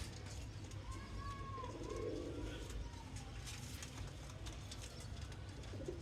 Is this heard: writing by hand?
no